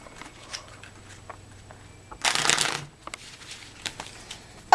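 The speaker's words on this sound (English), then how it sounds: "Now, I'm going to shuffle it up a few times" A deck of cards is riffle-shuffled in one brisk, crisp burst partway through, amid faint handling clicks and rustles in a quiet room.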